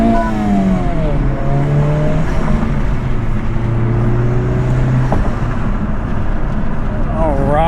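A Honda Civic Type R FL5 fitted with a Spoon part accelerates at full boost, its engine tone rising and falling in steady harmonic sweeps, loud and close from inside the car, with a voice speaking briefly over it.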